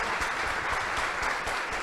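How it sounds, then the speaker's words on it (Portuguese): An audience at a moderated panel event in Itapema, Brazil, applauds in a thick, continuous patter of many hands clapping at once, with a steady level and no talk over it. "Uma salva de palmas, então."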